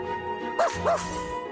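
A puppy in the horror video game Reverse: 1999 gives two short, clear barks over a steady musical game soundtrack.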